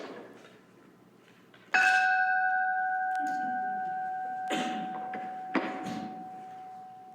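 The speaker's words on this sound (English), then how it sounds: "Martha, would you sound the opening gong, please?" An opening gong at a Unitarian Universalist church service is struck, ringing with a sustained metallic tone that slowly decays, followed by a couple of softer knocks and a second strike over a quiet room.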